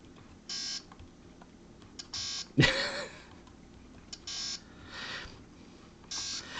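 A Microvision handheld game console, almost 50 years old, sounds several short bursts of bright electronic beeping from its buzzer, separated by pauses, with one harsher noisy burst partway through.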